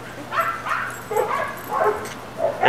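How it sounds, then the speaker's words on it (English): A Parson Terrier and Beagle mix dog gives several short yips and barks, close by and moderately loud, over a quiet room with soft background voices. "He's a Parson Terrier mix. And I think Beagle"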